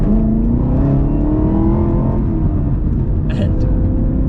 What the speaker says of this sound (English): this is what this car sounds like when you rev it up